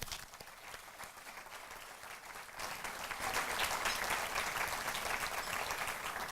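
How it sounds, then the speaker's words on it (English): An audience at a business celebration event applauds, the clapping starting moderate and then swelling fuller and louder, a dense continuous patter of many hands. "Let's give them a round of applause."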